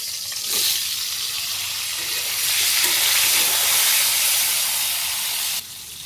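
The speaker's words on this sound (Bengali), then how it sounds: "তেল গরম হয়ে গেছে, আলুগুলো দিয়ে দিই।" Potatoes are dropped into hot oil in a wok, and the frying hiss swells into a loud, steady sizzle that holds for several seconds before easing slightly.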